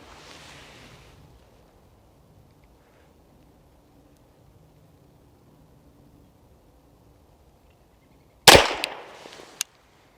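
Pistol shot from a Tisas 2011 Carry DS fired at a range, a single sharp loud crack near the end after a long quiet stretch, with a short noisy tail and a faint click.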